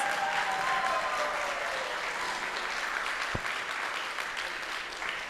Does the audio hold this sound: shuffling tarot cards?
no